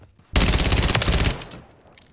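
A fast burst of automatic fire from an ISO 9mm submachine gun in a first-person shooter, one dense loud volley lasting about a second before it cuts off, with a faint tail afterward.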